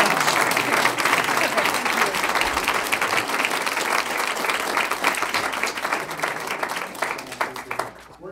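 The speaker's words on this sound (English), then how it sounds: "Big round of applause." An audience at a school board meeting gives a loud, sustained round of applause, dense clapping from many hands that fades slightly near the end, with faint voices mixed in.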